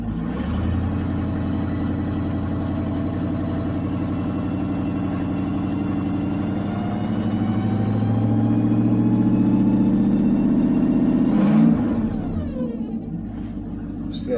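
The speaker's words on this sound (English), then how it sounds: "she's got the supercharger whine in the transmission" A 2002 Ford Ranger with a 351W V8 running with a failing transmission, giving a steady mechanical whine like a supercharger over a rumbling engine that builds slightly, then drops off near the end.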